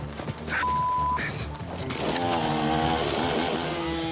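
A chainsaw engine revs up and snarls loudly, grinding steadily through tough tree roots after a brief tone and a few knocks at the start.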